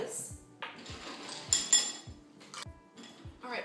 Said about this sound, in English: I'm gonna go ahead and add in my ice